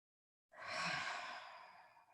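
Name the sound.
person breathing during a rest in yoga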